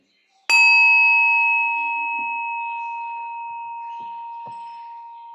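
A single meditation bell is struck once and rings out with a clear, pure tone that sustains and slowly fades over several seconds, with faint soft sounds in the background.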